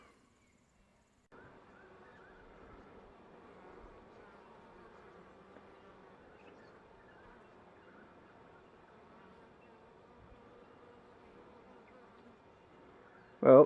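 Honey bees buzz around a beehive during a winter inspection, giving a steady, soft, continuous hum that lasts almost the whole time, with a short loud knock right at the end.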